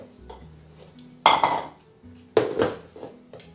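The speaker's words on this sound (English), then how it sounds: "I'm going to put this goopy stuff here with my tuna and my veggies. I'm going to mix that up." Utensil clinks and scrapes as tuna, vegetables and a thick sauce are mixed in a casserole dish for a low-calorie tuna noodle casserole, with two sharper bursts of knocking among quieter scraping.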